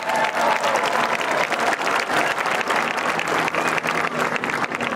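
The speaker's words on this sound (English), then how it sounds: "let's give him a round of applause anyway" Steady applause from an audience at a high school marching band show honoring the chief judge, dense, even clapping sustained throughout at close range with no voice on top.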